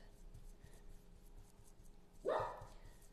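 A dog gives a single short bark close by, cutting in over a quiet room where someone is busy with a stencil upcycling craft.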